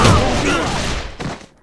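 A burst of gunfire in the online shooter Alliance of Valiant Arms, a loud rattling volley that dies away, followed by one more shot and a fading tail, with no talk over it.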